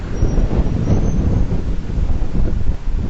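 Strong typhoon wind on Victoria Peak in Hong Kong, buffeting the microphone with a steady, loud, low roar and rumbling gusts throughout, with no voices.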